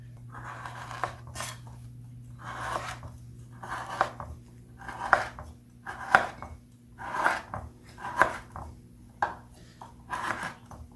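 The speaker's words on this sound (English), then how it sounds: "I usually cut it into strips." A knife cutting fruit and nut pressed bread into strips on a board, about ten rhythmic muffled cuts each ending in a light knock, close and fairly quiet over a low hum.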